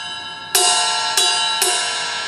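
Three ringing strikes on the bell of a drum kit cymbal, played by the right hand in a groove. Each hit is close and bright and sustains into the next, with no voices.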